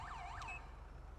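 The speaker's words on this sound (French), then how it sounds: "c'est le son de base de la police" Police car siren from an emergency lighting mod in a video game, a fast yelping warble with two quick up-down sweeps before cutting off, faint over a low engine hum.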